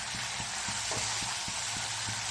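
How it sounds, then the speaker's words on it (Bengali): Spices fry in a pan for a silver carp mustard curry, producing a continuous dense sizzle close by, with soft rhythmic taps of a stirring spoon underneath and no talking. "একটু ভাজা ভাজা হচ্ছে"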